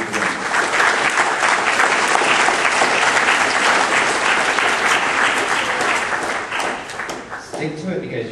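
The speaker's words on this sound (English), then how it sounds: "I would like to have you guys give yourselves a round of applause" A large audience at a youth leadership forum breaks into sustained, loud applause, dense clapping filling the hall for several seconds before tapering off near the end.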